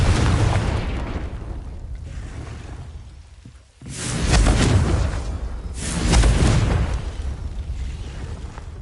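Confringo fire-spell explosions in the Hogwarts Legacy video game, two loud booming bursts a couple of seconds apart, each swelling and rumbling away over a dense, noisy background with no talk.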